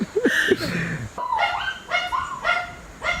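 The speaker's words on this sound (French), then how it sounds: "Ce sont vos 2 petits chiens, on les entend." Two small dogs bark in a series of sharp, high yips and short whimpering barks, close by and fairly loud, with brief pauses between bursts and a little voice noise at the start.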